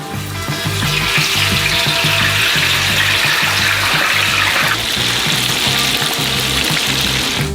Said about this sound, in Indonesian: Dalam minyak panas ini kita celupkan saus kentang ini